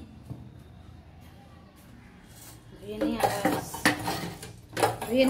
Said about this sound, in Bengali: তাহলে চালটা ধুয়ে নিই